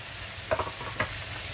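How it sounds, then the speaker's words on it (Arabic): Liver frying in a pan with garlic, salt, coriander, cardamom, black pepper, seven spices and cumin: a continuous close sizzle with a couple of sharp stirring scrapes and no talking. "نبدا نقلب بقى كل التوابل والثوم كله مع الكبده مع بعضه"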